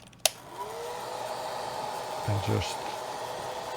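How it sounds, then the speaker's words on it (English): A hair dryer blows steadily to dry wet paint on a model jet, a constant close whoosh with a low hum, starting after a sharp click as a voice speaks briefly. "you can use hair dryer"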